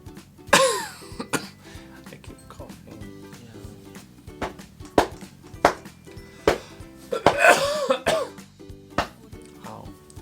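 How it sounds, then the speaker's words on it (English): Several sharp coughs come in bursts, a pair early and another cluster later, with quieter clicks and soft background tones between them. "I keep coughing."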